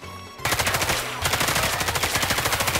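Rapid automatic gunfire from a first-person shooter video game rattles in a fast, even burst, pauses briefly, then resumes in a long, loud, close sustained stream with no voices over it.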